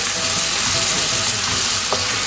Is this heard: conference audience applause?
no